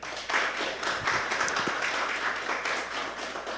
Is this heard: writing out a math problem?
no